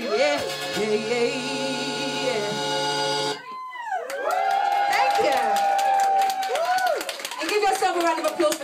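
A party crowd at a private birthday party sings along and cheers with a live performer, loud voices and whoops over music that breaks off midway, then a burst of cheering and shouting follows.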